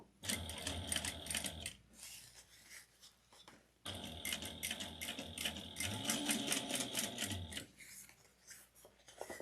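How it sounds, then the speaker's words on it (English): A domestic sewing machine top stitching a handbag at an eighth-inch seam allowance runs in two long rapid bursts, its fast needle chatter close and loud, with a short pause between them and no talk. "we're going to top stitch at 1/8 of an inch"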